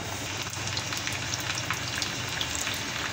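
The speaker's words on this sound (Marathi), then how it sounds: "बघा, लसूण तळत आहे आपलं मस्त" Garlic fries in oil in a small tadka pan for palak bhaji, a close, steady crackling sizzle with fine popping spatters and no voices.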